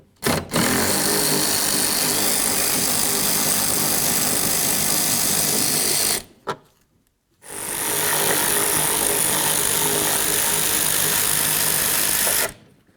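A power tool whirs loudly, removing mounting bolts from the rear third door of a 1994–2004 Chevy S-10 pickup in two long bursts separated by a brief silence.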